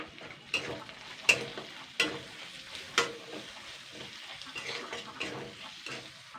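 Ginger and garlic frying with salt and turmeric in a pan for a vegetarian taro-leaf dish: a steady low sizzle broken by several sharp clinks and scrapes of a spoon stirring, fairly close.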